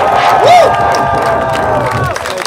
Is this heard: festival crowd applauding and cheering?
yes